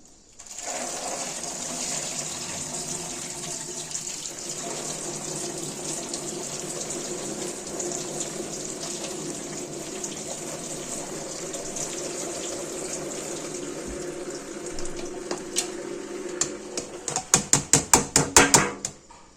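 A steady rush of water draining off soaked wheat pours for a long stretch, then gives way to a quick series of sharp clattering knocks near the end.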